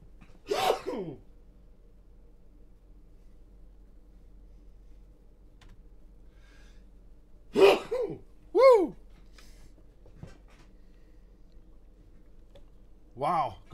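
A person playing Fortnite sneezes, with a few short sharp nasal bursts spread across an otherwise quiet stretch, close to the microphone.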